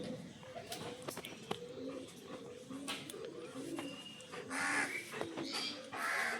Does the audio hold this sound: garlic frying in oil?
no